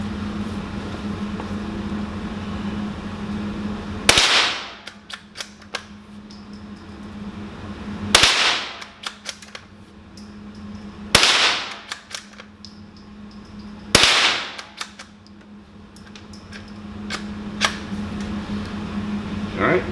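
A Ruger American .22 LR rifle fired outdoors: four sharp, loud cracks spaced a few seconds apart, each with a short decay, plus small mechanical clicks between shots over a steady background hum.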